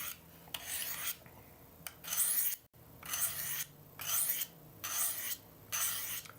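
A knife is sharpened on the 600 grit side of a sharpening stone, making rhythmic, loud, close raspy strokes, about six or seven long scrapes with brief pauses between them.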